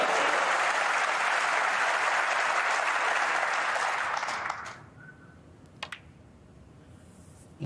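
Warm, sustained applause from the crowd at a snooker match, the World Masters of Snooker finals in Riyadh, fills the first four seconds loudly before fading out, leaving a quiet hall with a couple of faint clicks.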